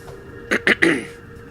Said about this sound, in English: Sorry, I just can't seem to clear my throat today.